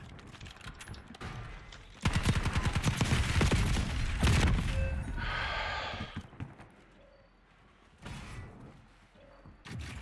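Gunfire in the video game Warzone during solo play: bursts of rapid shots and a sustained volley, with scattered impacts and game effects, moderately loud and mixed with background game sound.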